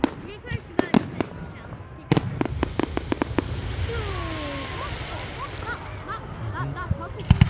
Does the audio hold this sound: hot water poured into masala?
no